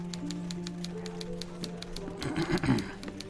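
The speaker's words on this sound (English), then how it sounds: "Oh, satisfying typewriter sounds." Typewriter keys clacking in a Sherlock Holmes video game, a quick even run of light mechanical taps over a soft tonal background, ending in a louder cluster of clunks.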